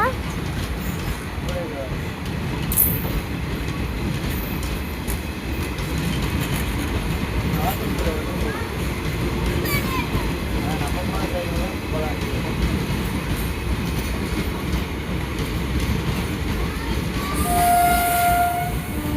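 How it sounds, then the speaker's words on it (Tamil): A train rumbles past steadily and loudly for a long stretch, wheels clattering, with a brief horn near the end. "நம்ம ட்ரெயின் போய் விட்டது."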